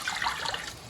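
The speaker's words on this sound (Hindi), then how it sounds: "तो अब इसके अंदर हमने जितना शोरबा, जितनी ग्रेवी रखनी उसके लिहाज से हम इसके अंदर पानी ऐड करते हैं" Water poured from a glass into a cooking masala for fish korma, a brief splashing pour with a bright trickling wash, close and alone.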